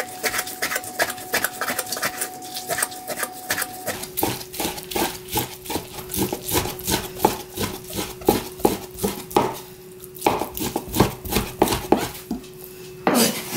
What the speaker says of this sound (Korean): 이렇게 자르고, 이걸 몇 번을 과정을 반복해가지고 완전히 잘게 다져주시면 됩니다.